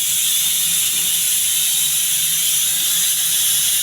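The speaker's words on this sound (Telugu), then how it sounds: "4-5 విజిల్స్ రావాలి పప్పు ఉడికే వరకు" A pressure cooker on a stove cooking dal lets out a loud, steady high-pitched hissing whistle of escaping steam, continuous and unbroken throughout, with no talking.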